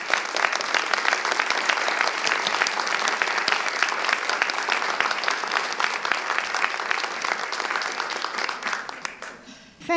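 Sustained audience applause for the candidates at a League of Women Voters congressional district candidate forum, with dense, steady clapping from a sizable crowd for about nine seconds before fading out.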